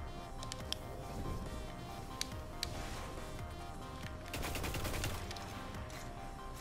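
Gunfire in the video game Destiny, rapid repeated shots in a dense, fairly faint stream amid game noise, alone without talk.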